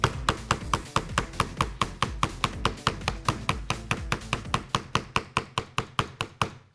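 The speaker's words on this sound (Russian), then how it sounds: "Кладу сам смартфон и начинаю на нем нарезать огурец." A knife chops cucumber briskly and evenly on a smartphone's hard surface, around thirty crisp close-up strikes in a steady rhythm, with no talking.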